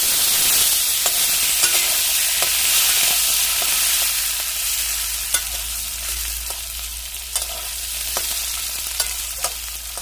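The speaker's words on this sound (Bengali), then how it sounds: "এবার আমি ফোড়নের জন্য সামান্য জিরে দিচ্ছি, তারপর কেটে রাখা আলুগুলো দিয়ে দিচ্ছি।" Cumin seeds and cut potatoes frying in hot oil give a steady sizzle across the whole stretch, with occasional sharp clicks of a spoon stirring in the pan and no talking.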